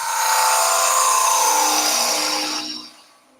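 A wood-turning gouge cutting into a spinning blank for an egg cup on a lathe, a loud, steady high-pitched whine with shifting tonal hiss that fades out abruptly near the end.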